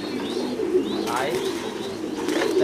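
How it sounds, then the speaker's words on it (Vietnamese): A pair of yellow American King pigeons coo close by, low throaty rolling calls repeating over soft background noise, with someone speaking briefly. "đây là cặp bồ câu này màu vàng anh em ạ"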